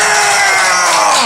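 A small group cheers and whoops together, loud and close, at a farewell for a podcast co-host, and the shouting runs unbroken for the whole brief moment.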